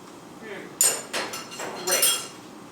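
A metal lid set down on a pot of vegan tomato sauce, followed by a few clinks of a spoon, close by in a quiet kitchen.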